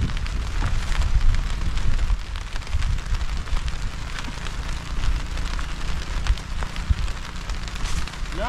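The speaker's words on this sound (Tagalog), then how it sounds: "Ulan na" Rain starting to fall outdoors over a freshly transplanted garden, a steady broadband hiss and patter that holds at an even level throughout, with no voices.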